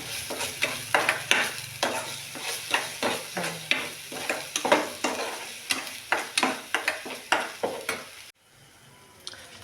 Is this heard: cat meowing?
no